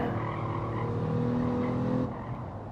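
A race car engine in Gran Turismo 7 on the Streets of Willow circuit drones loudly and steadily, then its pitch drops abruptly near the end as the driver downshifts, with a hint of tire noise.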